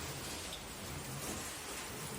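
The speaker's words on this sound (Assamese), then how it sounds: "বৰষুণে দি আছে দিয়ক" Rain falls outside in a continuous, even hiss with a soft low rumble beneath it, faint and steady throughout.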